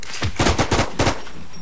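Automatic gunfire from a weapon in the online survival shooter The War Z, a close, loud burst of about five rapid shots in quick rhythm that ends in quiet.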